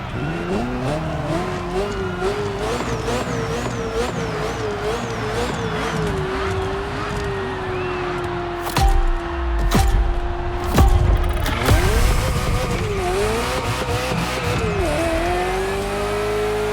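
Ferrari F40 in The Crew Motorfest racing game, its engine droning steadily at high revs, then tires squealing in long wavering skids with bumps and thuds toward the end, loud and continuous.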